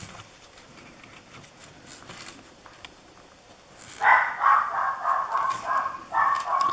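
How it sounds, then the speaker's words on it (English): A pet dog breaks into a rapid run of sharp, loud barks after a quiet stretch, pausing briefly before barking again. "Excuse my dog."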